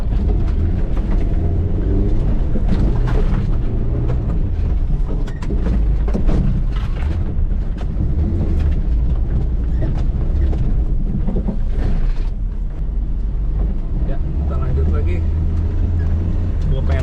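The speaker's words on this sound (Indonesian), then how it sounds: "Agak kebut dikit, wah gini rasanya nih, Katana full standar tapi 4x4." A stock Suzuki Jimny Katana 4x4 drives off-road on slippery ground on standard tires, its loud engine rumble and road noise continuous up close, with voices talking over it.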